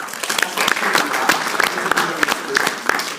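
An entrepreneurs' event crowd gives a round of applause, dense and fairly loud clapping with sharp individual claps standing out, close to the listener, with some voices mixed in.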